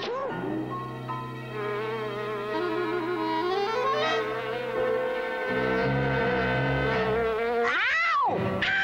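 A fly buzzes in a Smurfs cartoon, a loud close whine that rises and falls in pitch as it moves around, over a musical background.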